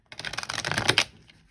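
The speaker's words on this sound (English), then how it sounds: "Completely fine shuffling." Tarot cards are riffle shuffled in one quick, close burst of rapid flutter-clicks that builds to a snap and trails off into a soft settle.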